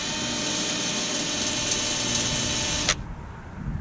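A power drill bores a pilot hole while a Ranger is being taken apart. One steady, high whining run is heard up close and fairly loud, then it stops abruptly and only quiet room noise remains.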